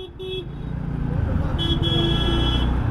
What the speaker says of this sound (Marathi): एवढं जाम आहे पुढे दिसतंय तरी हॉर्न वाजवत आहेत